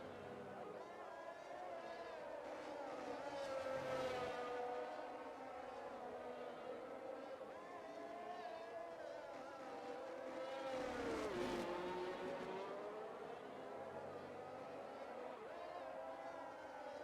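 Race cars in a racing video game leaving the pit lane at the United States Grand Prix, engines droning and rising and falling in pitch as they pass, with a commentator talking over them.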